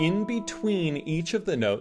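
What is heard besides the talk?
No everyday noise stands out behind the speech.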